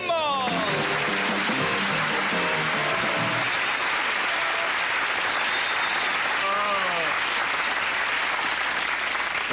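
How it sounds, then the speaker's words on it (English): Studio audience applause greets the host of a late-night talk show, a steady wash of clapping running throughout, with music and voices layered over it in the opening seconds. "Thank you for all the applause"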